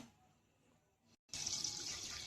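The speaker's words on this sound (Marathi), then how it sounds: "मी त्या स्वीट कॉर्नचं पाणी काढून घेते सगळं" Water from a tin of sweet corn being drained off, likely into a sink, a steady broadband rush of pouring liquid that starts abruptly after a brief quieter stretch and stays loud and close.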